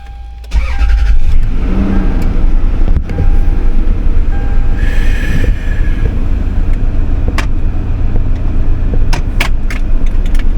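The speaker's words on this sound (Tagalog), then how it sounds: "paandarin muna natin mga tolits ang ating sasakyan" A car engine cranks and catches with the hood open, then idles in a loud, steady, close rumble for the rest of the clip.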